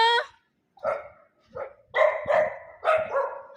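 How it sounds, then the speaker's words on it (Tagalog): Several dogs barking outside a house, sharp separate barks and yips in uneven bursts, close and clear with short pauses between them. "Pero ang daming aso."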